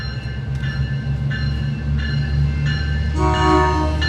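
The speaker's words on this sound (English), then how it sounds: "Oh, good horn. Good horn, thank you." A SMART DMU train, units 106 and 105 running northbound, sounds its horn in several loud, steady blasts, with a longer, stronger blast at the end over the rumble of the passing railcars.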